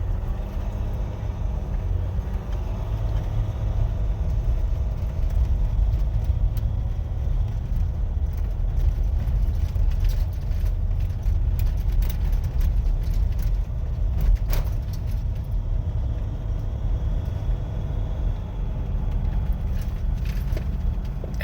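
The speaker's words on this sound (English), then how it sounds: "now we're going to do a takeoff here from a dead stop" A Jeep Gladiator EcoDiesel pickup towing a load pulls away from a dead stop, its diesel engine a steady low rumble that holds for about twenty seconds under road and cabin noise.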